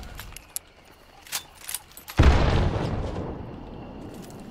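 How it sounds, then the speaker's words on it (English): A thrown TNT charge in Hunt: Showdown detonates with a sudden loud blast that rolls into a long decaying rumble, following a few scattered clicks and faint taps. "Someone threw TNT."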